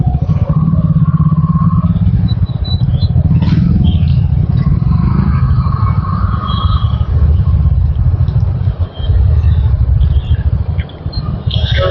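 Dense road traffic heard from a moving motorcycle, likely a Royal Enfield Hunter 350: continuous loud engine rumble and wind noise with passing vehicles and occasional clatter throughout.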